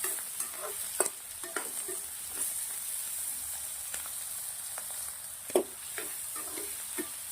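Mushrooms fry in ghee with ginger-garlic paste, giving a soft, steady sizzle broken by irregular spoon scrapes and clacks against the pan as they are stirred; no voices.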